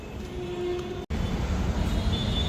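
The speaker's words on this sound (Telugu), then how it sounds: "ఇప్పుడు మీరు చూస్తున్నది Bengaluru metro white field station అనమాట." Inside Bengaluru Metro's Whitefield station, a steady low rail rumble fills the space with a faint hum, broken by a brief, sharp dropout partway through before the even drone resumes.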